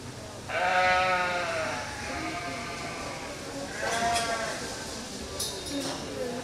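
Black-faced sheep bleat at a junior county livestock show, two long wavering baas a few seconds apart, fairly loud and close over a murmuring crowd and announcer talk in a show barn.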